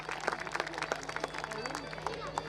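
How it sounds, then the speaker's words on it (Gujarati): An audience at a school inauguration ceremony claps to welcome the chief guest: scattered, uneven hand claps ring out over a low crowd murmur and nearby voices. "આપણે તાળીઓના ગડગડાટથી સાહેબને વધાવીએ તેમના ઉમદા કાર્ય માટે."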